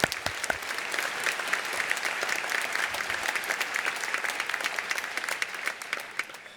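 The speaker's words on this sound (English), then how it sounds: "Can we get a round of applause for the families that have supported our students today?" A crowd at the Glenbrook North 2017 graduation ceremony gives a round of applause for the students' families. Many hands clap briskly and continuously at a steady volume, with crisp individual claps standing out and no talking over it.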